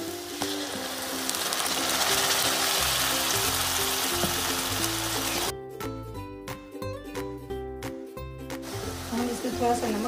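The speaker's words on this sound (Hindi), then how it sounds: "गोल्डन ब्राउन होने तक भून लेंगे" Food sizzles and fries steadily in a pan on the stove for a matar mushroom curry, a loud continuous hiss, later joined by stirring scrapes and clatter as the sizzle drops.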